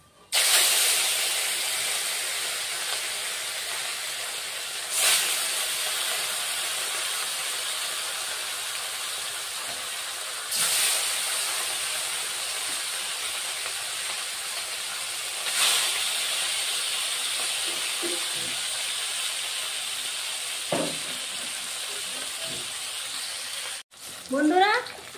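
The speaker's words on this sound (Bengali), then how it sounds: "এখন আবার বন্ধুরা দ্বিতীয়বারের আমি মাছ দিয়ে দিচ্ছি।" Pieces of rui fish fry in hot oil with a loud, steady hiss and sizzle that lasts throughout, swelling briefly every few seconds and ending with a short burst.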